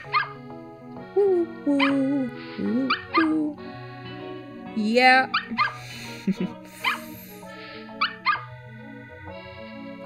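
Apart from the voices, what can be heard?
dog barking in Nintendogs + Cats video game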